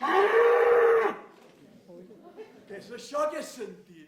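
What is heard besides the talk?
ox or bull bellowing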